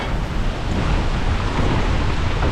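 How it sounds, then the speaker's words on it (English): Heavy, continuous wind buffeting a microphone on a trail in Lugnet, Falun, a dense roaring rumble with no pauses and no voices. "Man, it's so windy."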